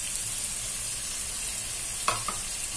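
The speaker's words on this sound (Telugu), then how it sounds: "ఈ చికెన్, బీన్స్, క్యారెట్, ఎగ్ అన్ని వేసి ఒకసారి వేపుకోవాలి" Chicken, beans, carrot and egg frying in a pan for chicken fried rice, a steady soft sizzle throughout with a couple of brief stirring clinks near the end.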